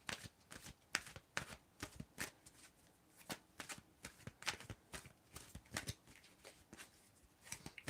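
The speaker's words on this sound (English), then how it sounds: "When do I need to stop shuffling?" Tarot cards are shuffled by hand in a steady run of soft, quick riffling snaps, close and fairly quiet, continuing without pause.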